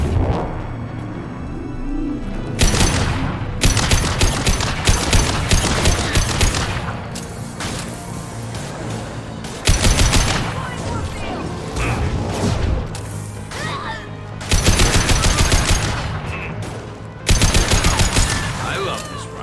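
Loud, close rifle fire in the video game Mass Effect 2 Legendary Edition: rapid automatic bursts of several seconds each, separated by short pauses, with crashes and booming impacts mixed into the barrage.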